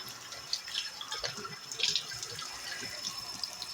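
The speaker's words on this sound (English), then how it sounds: "to wash your hands, you're going to want to turn on hot water" Hot water runs from a sink tap while hands are washed, a soft continuous splashing with a few brighter drips and splatters, moderately quiet and near, no voices.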